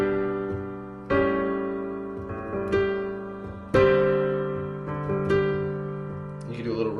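Piano playing a song with an added right-hand octave, struck chords recurring every second or so and decaying between them, soft and close with no voices.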